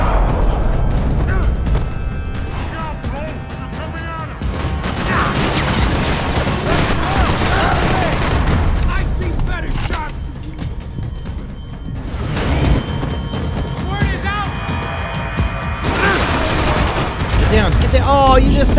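Max Payne 3 video game gunfire crackles in repeated bursts and volleys with booms and crashes, loud throughout, while a voice talks over the action.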